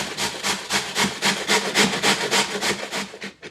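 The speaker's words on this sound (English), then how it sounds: "I've got a box grater, and we want to grate this." Zucchini is rubbed against a metal box grater in quick, regular rasping strokes, roughly four per second, close and fairly loud, with no voices.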